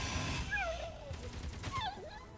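Turrets fire in the space video game Space Engineers, a rattling burst of distant gunfire with swooping tonal effects over a constant rumble.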